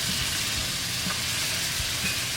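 Minced garlic and ginger sizzling in hot oil in a pan alongside red pepper chili flakes: a brief, dense, continuous hiss with scattered pops, close and fairly loud, with no voices.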